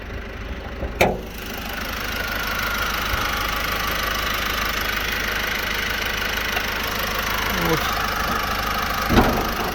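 A 2017 Opel Astra K Sports Tourer 1.6 automatic engine idling steadily close by, a smooth even hum with a couple of brief knocks and clicks on top; no timing chain noise.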